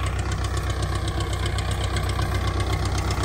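A Russian tractor engine used for potato farm work runs steadily at a close, loud idle with an even mechanical throb and vibration, and no voices over it.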